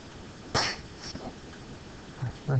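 One sharp sneeze erupts in a quiet physics lecture room, a brief close burst followed by faint, scattered voice sounds and room noise.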